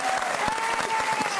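A studio audience on a Christmas comedy music quiz show gives a round of applause for a guest, a short burst of dense, steady clapping heard on its own.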